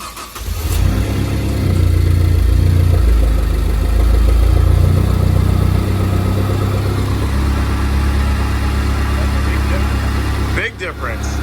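A Ford Focus ST engine starts close by and settles into a steady, rumbling idle that continues for about ten seconds, with people talking over it and a brief dip near the end.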